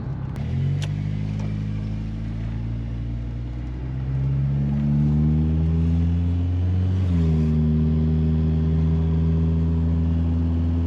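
Volkswagen MK2 Jetta driving, heard from inside as a loud, steady engine drone that climbs in pitch, drops smoothly at a gear change, then settles into an even cruise, with no voices.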